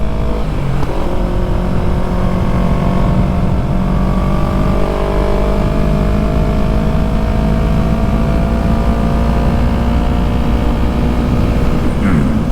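Yamaha MT-03 motorcycle engine running steadily while riding, a loud continuous drone with shifting harmonic tones and wind noise throughout, no talking.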